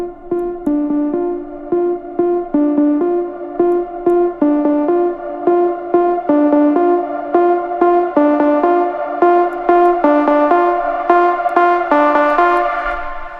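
Electronic synth leads loop a short, bouncing melody bar in a steady rhythm, the tone opening up brighter and fuller toward the end as the filter sweeps in for a build.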